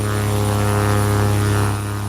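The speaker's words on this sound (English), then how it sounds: "Look at that plane go." A Short 360 twin-turboprop airliner in Flight Simulator X drones steadily with a loud, even propeller hum and engine whine, holding constant before easing slightly near the end, with no talking.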